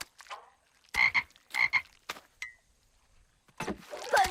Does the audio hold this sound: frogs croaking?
yes